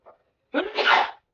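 A brief intake of breath, then a single loud, sharp sneeze close by, with nothing else around it.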